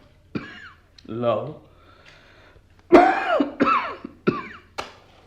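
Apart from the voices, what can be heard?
old man coughing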